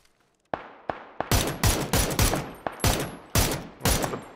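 Gunshots in PUBG: after a moment of quiet, loud close rifle shots ring out singly, then in rapid bursts of fire with short gaps between them, no speech.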